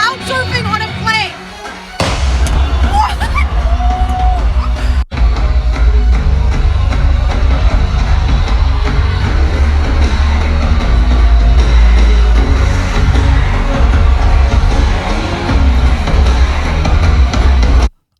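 A crowd yells and cheers while people crowd surf aboard a plane, a loud dense roar of voices with a sudden cut early on, steady and heavy to the end.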